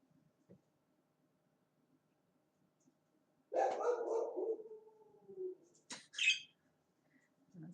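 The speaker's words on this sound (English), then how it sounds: "That's a weird bark from Bailey." A pet dog named Bailey gives an odd, strained bark indoors, a single drawn-out yelp followed by a couple of short sharp barks, close and fairly loud against a quiet room.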